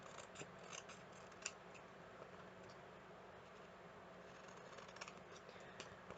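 Scissors cutting paper while making teaching materials, soft repeated snips and rustles, very faint against a steady hiss, with no speech.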